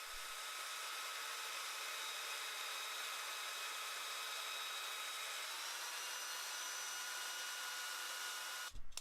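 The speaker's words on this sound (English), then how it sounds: "I can go about putting the final grind onto the blade, which ate through an entire pack of 40 grit belts" A belt grinder with coarse 40 grit belts shapes a dagger blade, giving a continuous high, hissing whine that holds steady for several seconds before cutting off with a brief clatter.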